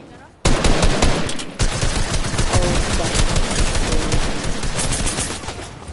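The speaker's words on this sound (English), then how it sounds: "Someone's shooting me." Gunfire crackles in the Fortnite video game: loud, dense, rapid automatic shots that start abruptly and continue with little pause.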